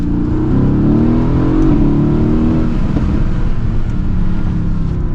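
A loud Mercedes-AMG GT S engine accelerates hard, a steady rising roar with rumbling low tones and wind rushing past, no voices.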